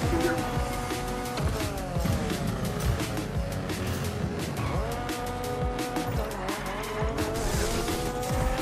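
Racing cars drift with repeated tire squeals and skids over steady engine roar in the Fortnite Rocket Racing video game, loud and continuous throughout.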